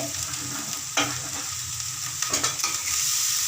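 Onion, chili, ginger, curry leaves and carrot frying in a pan, a soft continuous sizzle broken by a few quick spoon scrapes and stirring clatters, with no voices.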